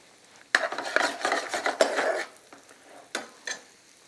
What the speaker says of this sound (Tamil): ஏற்கனவே நறுக்கி வச்ச இந்த வெஜிடபிள் எல்லாத்தையும் எடுத்து இதுக்குள்ளே போடுறேன்.